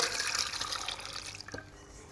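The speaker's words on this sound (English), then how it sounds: "we want to strain our gnocchi" Cooked gnocchi are tipped into a strainer, with water pouring and splashing steadily through it for about two seconds before the flow tapers off into lighter dribbles and drips.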